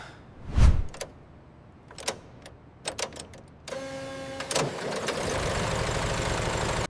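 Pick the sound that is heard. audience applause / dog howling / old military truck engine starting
old military truck engine starting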